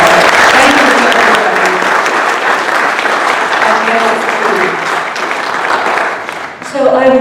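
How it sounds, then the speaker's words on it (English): Audience applause at a star party talk in Nebraska, a loud, dense burst of clapping from a large crowd that holds steady for several seconds before tailing off. "Let's give them a huge applause."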